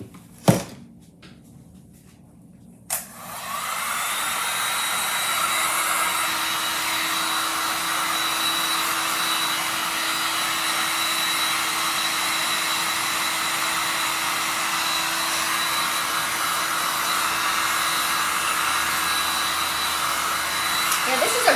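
A hair dryer runs steadily, drying paint on a handmade shelf riser; a brief knock and click come before it switches on, then the blower holds a loud, even whoosh to the end.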